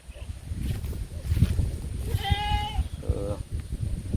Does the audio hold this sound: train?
no